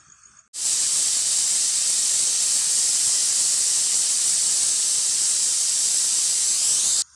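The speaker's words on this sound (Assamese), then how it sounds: "এয়া সিটি দুটা মাৰিলে মই বন্ধ কৰিলো" A pressure cooker whistle releases steam while jackfruit boils, a loud, sharp, continuous hiss that starts abruptly and holds steady for about six seconds before cutting off.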